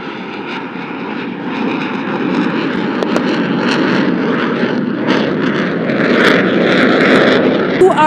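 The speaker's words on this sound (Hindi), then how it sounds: "now the aircraft is adjusting for the final and farewell maneuver of its display today, which is the vertical rolls" A Pakistani military fixed-wing aircraft flies a display at the 23rd March parade, its loud engine roaring continuously and swelling as it maneuvers, with a commentator's voice under the noise.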